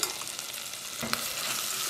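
Sausage frying in a triple-bottom pan, a steady close sizzle with a brief stirring clatter partway through, continuous and fairly loud with no talking.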